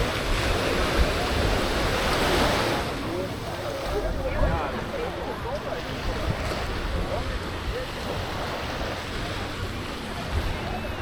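Sea waves wash onto the beach at Canasvieiras, a continuous rushing surf with a broad swell early on, mixed with wind buffeting the microphone and faint background activity.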